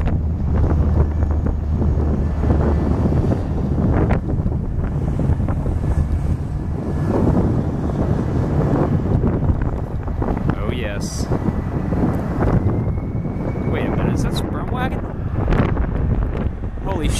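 Strong wind blasts across the microphone in a continuous heavy low roar, loud and close throughout, with brief higher sounds breaking through toward the end.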